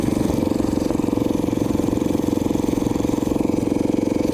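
A Briggs 5HP engine runs on a homemade chopper motorcycle, holding a steady, loud, throbbing low chug with rapid even pulses throughout and no talk.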